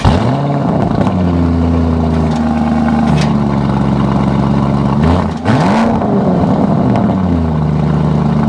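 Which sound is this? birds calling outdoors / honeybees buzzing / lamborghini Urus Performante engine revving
lamborghini Urus Performante engine revving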